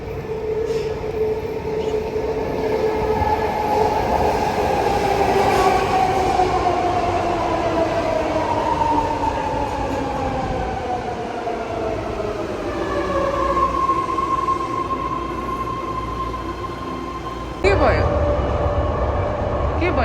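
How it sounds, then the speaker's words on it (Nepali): A train pulls into a station in San Francisco, a loud sustained rumble with gliding tonal whines that slowly drop in pitch as it slows, then a sharp clunk near the end, with voices faintly underneath. "हामी जाने ट्रेन आयो फाइनल्ली"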